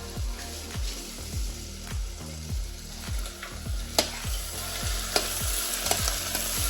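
Vegetables for a Cypriot turlu seasonal stew sizzle steadily in a pot while being stirred, with repeated scraping strokes over a constant close frying hiss as they cook down to golden.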